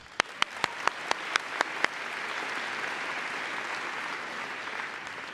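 Applause for graduates at a university convocation ceremony: several sharp, evenly spaced claps ring out first, then blend into a broad, even wash of crowd clapping that continues steadily at moderate volume.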